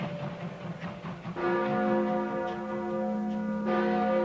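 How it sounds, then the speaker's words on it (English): Trinity Church bells in New York City chime with a sustained, resonant ringing tone. A new strike swells in partway through and then rings on steadily with a rich, lingering hum. "As the chimes of Trinity Church rang out"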